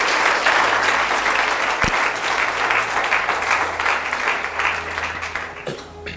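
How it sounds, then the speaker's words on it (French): A church congregation breaks into loud sustained applause and cheering, dense clapping filling the room, easing off near the end. "Est-ce qu'on peut acclamer la parole de Dieu?"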